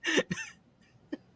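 A person coughs up phlegm: two wet, harsh coughs close together, a pause, then one shorter cough, all close and fairly quiet with no talk.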